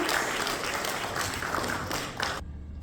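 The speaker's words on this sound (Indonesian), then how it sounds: "Tepuk tangan untuk kita semua." An audience at a service excellence training session in Indonesia claps loudly and steadily for about two seconds, then the applause cuts off abruptly.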